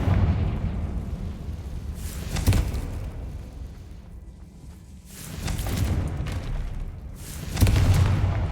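Blasting-spell explosions in a Harry Potter-style video game, three loud booming bursts a few seconds apart with rumbling decay between them, no talk.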